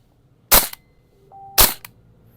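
A KJW KP19 gas blowback airsoft rifle fires two sharp, loud single shots about a second apart, each with a brief crack, and faint mechanical noise between them.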